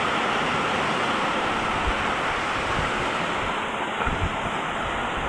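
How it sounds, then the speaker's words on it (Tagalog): Large waves crash and roar under strong wind during a typhoon along a coast with boats, a dense, loud, continuous wash of surf and gusts with no voices. "Dahil sa malakas na hangin at malaking mga alon sa dito."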